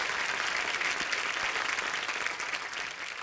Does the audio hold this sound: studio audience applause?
yes